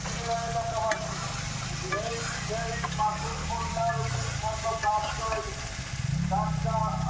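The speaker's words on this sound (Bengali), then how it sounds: "এবার আমি দিয়ে দেব ভেজে রাখা ডিম আর আলুগুলো।" Fried quail eggs and fried potatoes go into a sizzling masala for quail egg biryani, a close, steady frying hiss with spatula scrapes, while someone talks over it.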